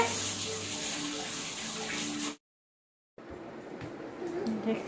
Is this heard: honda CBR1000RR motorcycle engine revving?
no